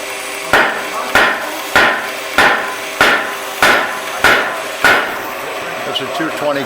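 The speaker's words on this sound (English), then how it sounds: "I have to use a chisel to make my maker's mark" Hammer blows on a chisel stamping a maker's mark into a straight razor: seven sharp, evenly spaced metallic strikes about two-thirds of a second apart, loud and close, followed by a quieter tap.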